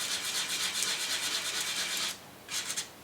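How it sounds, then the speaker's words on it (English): Hand sanding during a craft project: rapid, rhythmic rasping strokes run continuously for about two seconds, stop briefly, then resume in a short final burst, all close up with no talking. "What I might do also is a little bit more sanding."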